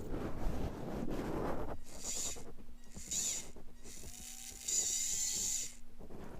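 A Mini-Z RC car's steering servo, newly fitted with a Sanwa receiver, whirs in several short, high-pitched bursts with brief pauses between them. Each bursting whine is close and small, with light background noise and no talk.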